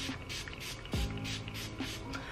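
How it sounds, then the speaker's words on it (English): A short hiss of mist spraying, with a soft thud partway through, in an otherwise quiet room. "I'm going to be going in with this facial mist."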